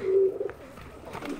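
Pigeons kept at a family home produce a soft, low coo near the start, followed by a quiet background of faint outdoor noise.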